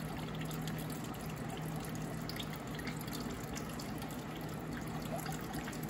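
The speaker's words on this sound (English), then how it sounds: "So I wanna get some air in there to help" Diesel fuel draining out of an opened filter on an Allis Chalmers 175 tractor with a Perkins diesel engine, a faint steady trickle heard alone.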